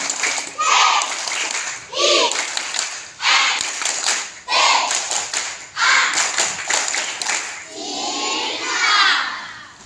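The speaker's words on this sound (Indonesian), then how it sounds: "Sebelumnya Bapak ingin tes dulu dengan tepuk cinta, ya biar semangat" Schoolchildren at a semester-break creativity show perform a rhythmic clapping chant, bursts of group claps alternating with shouted chant syllables, loud and lively with a rhythmic pattern.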